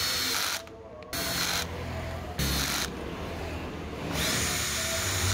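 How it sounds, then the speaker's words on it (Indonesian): A repaired electric drill whirs in bursts, revving on and off several times with brief near-silent dips between runs, close and steady. "Sekarang bor ini pun kembali sehat."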